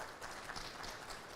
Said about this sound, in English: Please give a good clap, please.